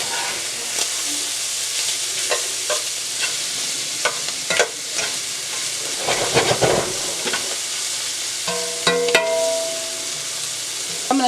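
A utensil scrapes and stirs through food frying in a pan for biscuits and gravy, a constant sizzling hiss broken by repeated clinks and scrapes against the pan, close and clear with no talk.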